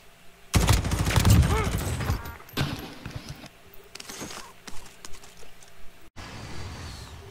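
A light machine gun firing in Call of Duty Warzone, a loud rapid burst of shots early on followed by scattered single reports and game noise, with a voice talking over parts of it.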